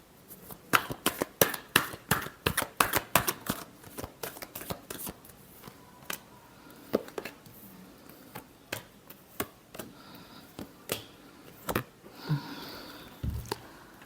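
Tarot cards being shuffled by hand, a rapid run of crisp riffling slaps and flicks close up, thinning into scattered taps and rustles with no talk.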